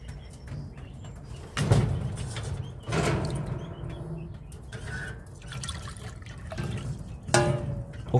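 Fresh water is poured into pets' water containers at home after the old water is dumped. The splashes and trickles come in separate, moderate bursts with short drips between them.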